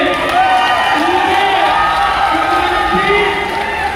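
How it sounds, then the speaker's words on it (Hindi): A large crowd at a Birsa Munda Kranti Mahasammelan rally cheers and shouts in a steady, dense roar that holds loud for the whole stretch, with voices rising and falling above the mass of sound. "एक बार खड़े होकर तालियों से स्वागत करें।"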